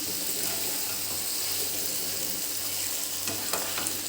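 Paneer mixed gently in a frying pan, a continuous close sizzle with soft stirring scrapes and a few light clicks near the end.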